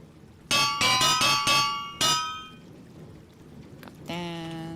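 A hammer in the Minecraft GregTech modpack gives five quick, ringing metallic clangs and then one more, each tone decaying briefly, followed by a sustained resonant chime over soft background patter.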